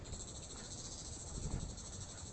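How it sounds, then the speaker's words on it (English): Cicadas drone in a continuous high, pulsing buzz on a mountain in Hong Kong, fairly faint and steady, with no talking. "No, those are cicadas."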